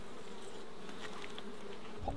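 Honey bees hum in a steady, faint swarm drone during a Mallee honey hive inspection, with a light knock near the end.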